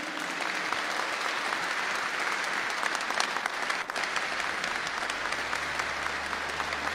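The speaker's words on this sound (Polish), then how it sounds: "Wielkie brawa." An audience at a Wrocław political campaign event applauds after a candidate's speech, a sustained, dense ovation of many hands clapping steadily throughout, loud and unbroken.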